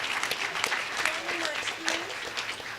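Audience applause at a Citizens' Climate Lobby climate advocate training event, steady clapping from many hands close by and sustained for nearly three seconds, with a voice briefly heard over it.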